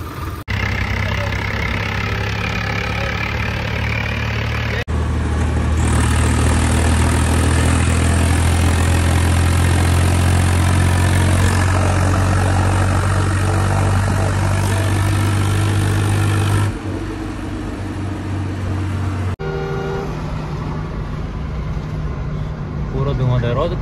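A Swaraj tractor engine idles nearby with a steady low diesel throb, its loudness shifting as the scene changes, while people talk over it.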